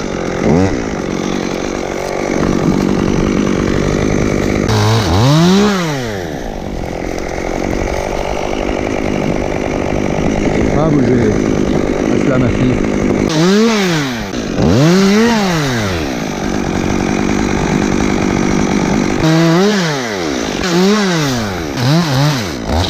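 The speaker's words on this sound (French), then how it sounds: "sur la tronçonneuse électrique" An electric chainsaw runs steadily throughout, with rising and falling whines as it revs up and bogs down under load, loud and close.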